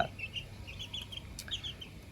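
Backyard chickens kept as a small-space hobby flock cluck softly and repeatedly, with short bird calls that rise and fall over a steady, low farmyard hum.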